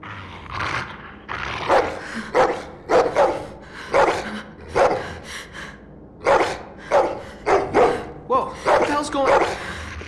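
A dog barks repeatedly in The Walking Dead video game, a steady run of loud, close barks with gasping breaths between, and voices mixed in.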